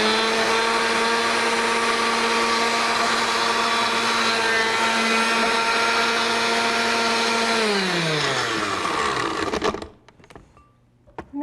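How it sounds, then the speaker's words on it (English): A blender labours through a batch of bananas with a loud, steady motor whine that holds, then winds down in pitch and cuts off near the end, leaving a brief quiet tail. "This blender seems to be having difficulty with my bananas."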